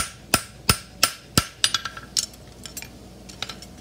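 Hammer blows flattening the heel area of a forged Stoneleigh hind horseshoe, four sharp evenly spaced ringing strikes followed by a quicker run of lighter taps that fade toward the end, with no talking.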